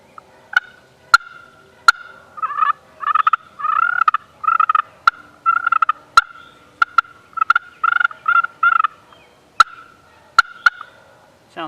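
High-pitched wooden turkey call working through clucks and yelps in short rhythmic runs, clear and close, with sharp clicks scattered between the phrases and no talk.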